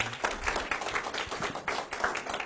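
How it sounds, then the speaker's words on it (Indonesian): A small audience at a Tiens health testimonial gathering gives brief, close applause, with a scattered, uneven patter of hand claps over about two seconds. "Aplaus dulu dong untuk Tiansi."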